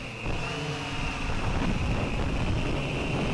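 Heavy wind roars and buffets steadily around a hexacopter holding position in flight, with a faint constant motor whine running through the loud, rushing gusts and no voices.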